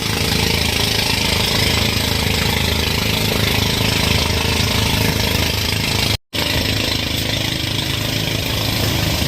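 A steady motorboat engine drones loudly and continuously at sea, with one brief cut-out partway through before the same rumble resumes.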